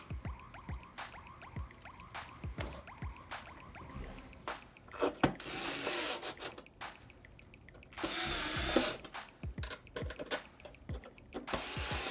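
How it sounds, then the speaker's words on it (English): A power screwdriver drives screws into an Xbox One S console during reassembly, giving several short whirring bursts separated by clicks and handling noises, close and fairly loud. "then we can start putting our screws in"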